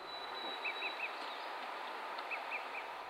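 An olive-sided flycatcher gives two sets of three short, quick "pip" notes, faint and somewhat distant, against a steady background hiss.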